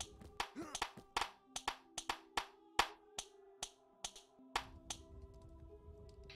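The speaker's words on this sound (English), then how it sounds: "So everybody give him a good cheer." Scattered applause at an in-game town gathering in Shroud of the Avatar: a dozen or so separate, crisp claps in an uneven rhythm, with a faint murmur underneath.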